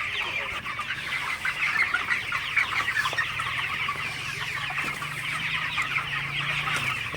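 Broiler chickens cluck and chatter continuously while drinking water in a poultry house, a dense close chorus of soft calls over a low steady hum, with no speech.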